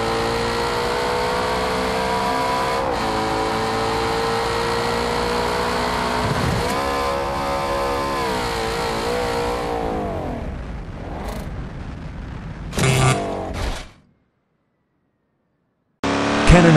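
A Ford Mustang drives in the BeamNG Drive game, its engine a steady loud drone for about ten seconds before the pitch wavers and falls. Sharp impact noises follow, then silence and a final loud burst.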